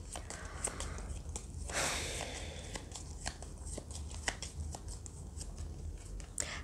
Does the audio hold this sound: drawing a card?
yes